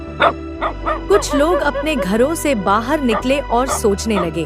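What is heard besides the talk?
dogs barking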